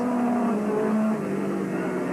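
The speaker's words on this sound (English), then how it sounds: "the cars are into the final lap here at Skegness" Small 300cc F2 stock cars race around Skegness Stadium, their engines droning in a steady, moderately distant hum with a slight pitch shift as they circle. No one speaks.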